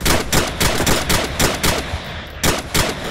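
Gunfire aimed at a wall, a rapid series of loud, sharp shots spaced roughly a quarter second apart, with a short pause before the last few.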